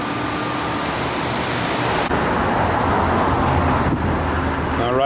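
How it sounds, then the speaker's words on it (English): A 2021 Chevrolet Camaro SS with an aftermarket exhaust runs on a dyno, producing a loud, continuous engine roar with broadband exhaust rush that holds steady and swells slightly toward the end. "it sounds like they got this Camaro started up again for a couple more dyno pulls"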